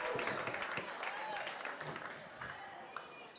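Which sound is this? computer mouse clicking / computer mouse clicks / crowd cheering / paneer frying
crowd cheering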